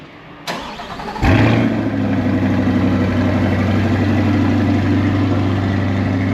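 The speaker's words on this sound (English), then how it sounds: "I'll do a cold start." A truck's V8 engine cold-starts with a sharp crank and catch, then settles into a loud, steady, deep idle right up close with no voices.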